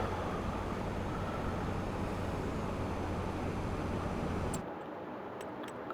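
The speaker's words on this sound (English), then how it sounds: "I love traffic on this game." Road traffic in the farming video game Farming Simulator 25 gives a steady, fairly loud engine rumble and road noise that holds evenly, then drops to a quieter hum near the end.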